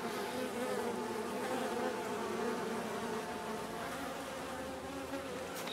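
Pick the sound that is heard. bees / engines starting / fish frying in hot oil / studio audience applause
bees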